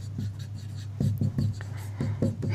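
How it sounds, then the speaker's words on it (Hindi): Chalk or marker tapping and scratching on a board during a chemistry lesson in a classroom, short strokes in clustered bursts, close over a low steady hum, with no speech heard. "मैं यहाँ पर लिखता हूँ"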